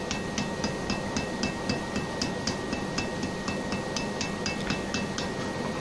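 A hammer strikes an iron dagger at the forge in a fast, even run of ringing metallic blows, close and continuous over a steady background hum.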